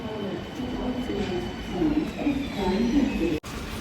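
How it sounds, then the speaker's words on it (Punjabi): Train pulling into a German railway station, a low rumbling roll with rising and falling mechanical tones over station ambience, fairly close, ending in a brief dropout. "ਉਧਰੋਂ ਟ੍ਰੇਨ ਆਈ"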